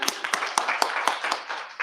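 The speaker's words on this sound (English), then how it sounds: "clap for that" Sparse clapping from a small audience at a freethinking society talk, a handful of sharp claps landing in a loose, roughly regular rhythm, fairly close and moderate in level.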